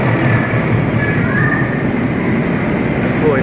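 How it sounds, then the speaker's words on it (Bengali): A goods train passes a railway station in Vietnam, its steady low rumble and rolling noise filling the scene continuously at close range, with faint voices in the background. "ও এটা একটা মালগাড়ি টাইপের"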